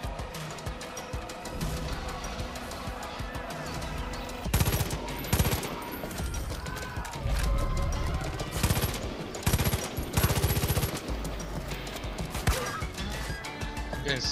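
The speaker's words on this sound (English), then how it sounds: "Pretty sure I'm getting sniped." Gunfire in Far Cry 5, loud cracking shots and rapid bursts recurring in clusters amid other game noise, with a sharp impact here and there.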